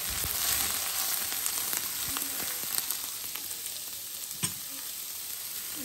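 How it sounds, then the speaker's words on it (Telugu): Onions with curry leaves and shahjeera sizzle steadily in a HexClad fry pan for chicken fry, a continuous close hiss with occasional stirring clicks and pops, no voices. "ఫ్రై అవుతుందండి ఇంకా ఉల్లిపాయ"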